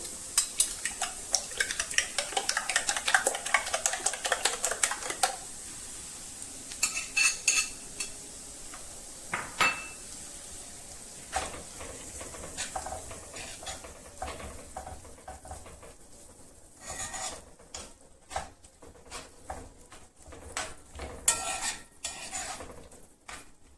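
Two beaten eggs cook in a pan with boiled cabbage as a utensil scrapes and clinks against the metal, giving steady stirring, light sizzle and scattered taps with no talking.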